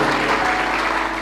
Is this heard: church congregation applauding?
yes